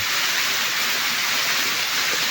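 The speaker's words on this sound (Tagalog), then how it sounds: "Ayan, oh, tingnan nyo ang falls dito" A waterfall at a water source roars in a dense, unbroken rush of falling water, loud and steady throughout.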